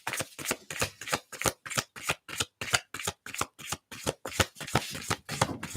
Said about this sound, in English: Get a shuffle on.